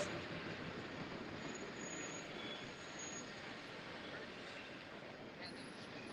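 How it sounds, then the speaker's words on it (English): In downtown Truckee, a train rumbles past behind people standing outdoors, a steady broad roar with faint wheel squeal throughout. "Got the train going behind us."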